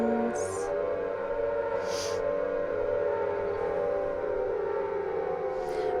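A siren drone from Silent Hill 1 holds a constant, even tone throughout, with a few faint brief higher blips over it and no voices.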